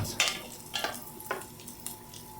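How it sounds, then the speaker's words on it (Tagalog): Garlic and onion sautéing in a pan for a chicken and ripe mango dish, with four distinct scraping stirs over a soft sizzle, close and fairly loud, no voices. "mag golden brown yung ating uh, bawang at saka mag translucent yung ating sibuyas"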